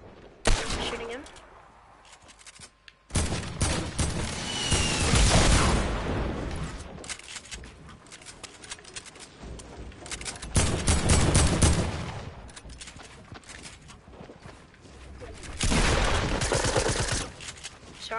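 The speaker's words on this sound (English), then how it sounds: "I'm shooting him." Gunfire from a Fortnite Battle Royale match, with loud bursts of shots in several clusters that come and go, mixed with other game sounds and a player talking over parts of it.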